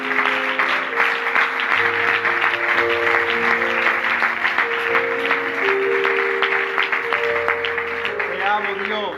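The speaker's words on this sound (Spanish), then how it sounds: "Los que crean, que le den un aplauso" Church congregation applauding steadily for about nine seconds, a dense wash of clapping over sustained keyboard or organ chords, with voices calling out on top.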